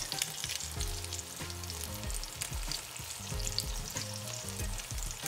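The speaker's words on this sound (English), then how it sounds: "we're gonna sit here and just watch these meatballs cook" Vegan Swedish meatballs fry in a pan with a steady, close hiss and crackle, while low musical tones play underneath throughout.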